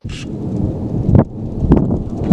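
Thunder from a nearby cloud-to-ground lightning strike during a thunderstorm: a sharp crack, then heavy rolling rumbles under steady rain noise.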